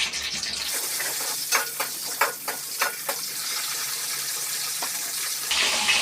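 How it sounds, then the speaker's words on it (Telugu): Brinjals fry in hot oil, a steady close sizzle and hiss with scattered sharp crackles and pops throughout. "ముందు వంకాయలు అయితే ఫ్రై చేయాలి"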